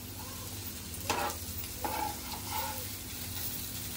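Sliced okra frying on a tawa, a soft continuous sizzle with a couple of brief scraping knocks as pieces are turned, fairly quiet and close, with no voices.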